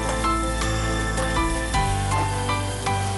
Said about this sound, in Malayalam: അതിൻ്റെ കൂടെ ഒരു ചെറിയ സവാള ചെറുതായി അരിഞ്ഞത്, ഇത് രണ്ടും കൂടി ചേർത്തൊന്ന് വറുക്കണം.